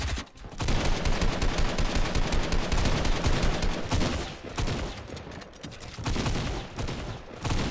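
Rapid bursts of gunfire from teams fighting in a mobile battle-royale shooter, dense overlapping automatic shots rattling almost nonstop with brief lulls, close and loud.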